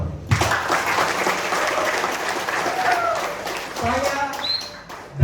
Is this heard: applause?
yes